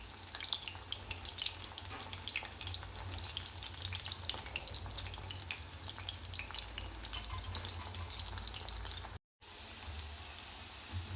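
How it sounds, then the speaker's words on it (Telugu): Chicken pakodi deep-frying in oil on a stove over a low flame. A constant dense crackle and sizzle runs throughout, close and even, with one brief silent gap near the end. "చికెన్ పకోడీ ఇలా ఈ కలర్ వచ్చే వరకు స్టవ్ చిన్నగా పెట్టేసి ఫ్రై చేసుకోవాలండి"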